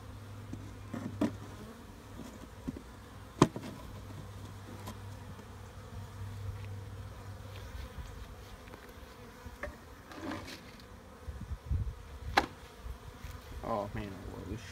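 Honey bees buzz steadily at a Cape Cod beehive during a hive inspection, a low continuous drone with a few sharp knocks and clicks of handling scattered throughout, and no talking.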